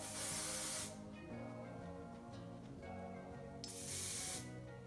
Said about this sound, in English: I'm gonna spray that generously and just push it in to my ponytail there.